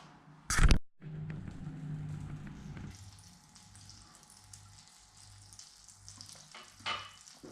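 A sharp clatter opens, then egg whites, an egg and tuna fry in a pan with a steady, soft sizzle. The frying is fairly quiet and close, with faint kitchen noises and no talking.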